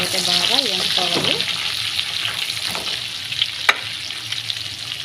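Onions frying in a pan give a loud, steady close sizzle, with a few brief tones near the start and one sharp tap partway through.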